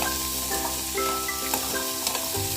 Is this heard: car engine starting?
no